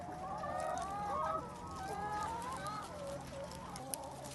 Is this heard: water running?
no